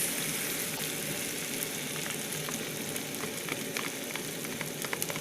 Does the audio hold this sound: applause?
no